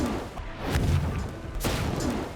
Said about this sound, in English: Da Vinci and Nico load all cannons and unleash hell on the tank park